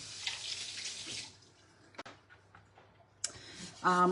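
Limes rinsed under a running kitchen tap, with a steady wash of water for the first second and a half, then scattered drips and clicks, ending in a brief louder splash.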